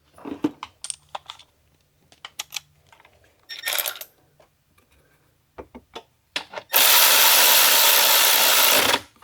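A bolt being threaded and tightened on a Chevrolet Impala engine during an evap purge repair: sparse metallic clicks and ratchet-like ticks in short bursts, then a sustained loud whirring burst from a power tool near the end.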